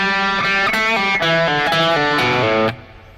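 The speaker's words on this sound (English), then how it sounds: "now we have a quick little lick that incorporates a lot of pull-off." Electric guitar with overdriven tone plays a slow lick full of pull-offs from a solo, a descending string of connected notes that stops abruptly, close and clear with no talking.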